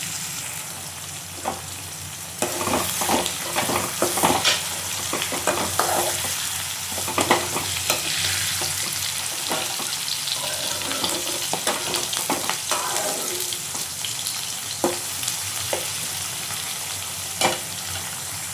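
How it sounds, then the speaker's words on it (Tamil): Onions sauté with salt in an oiled pan for a Tamil egg curry, steady close sizzling with repeated spatula scrapes and clicks of stirring throughout. "உப்பு போட்டே வதக்கிக்கலாம் வெங்காயத்துக்கு"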